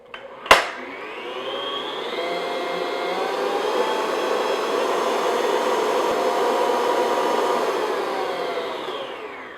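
An electric mixer beats a no-churn strawberry ice cream base at medium-high speed, a steady loud whir running without pause after a sharp click as it starts, then easing off at the end.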